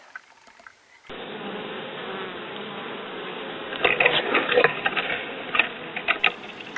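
Bees buzz steadily around a bee tree on a hobby farm, a dense, continuous drone with occasional louder passes close by.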